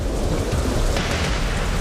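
Heavy rain and a fast-flowing, icy Himalayan river at a jungle river crossing, a dense, loud, continuous roar of rushing water and downpour with no pauses.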